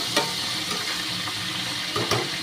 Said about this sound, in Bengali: মাছের মাথাটাকে একটু ভেজে নিই